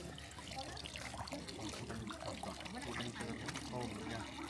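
A clean public drinking fountain runs with a steady trickle of water, heard throughout under constant broadband noise and background chatter.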